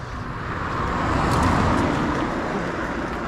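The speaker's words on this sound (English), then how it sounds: "And a car coming." A car passing along a road in Spragg Bush, a broad, steady tyre-and-engine rush that swells and fades over a few seconds, heard from moderate distance with no talking.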